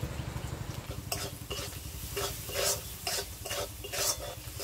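Chopped onions and potatoes fry in a pan, a steady sizzle broken by repeated scraping stirs roughly every half second, close and moderately loud with no voices.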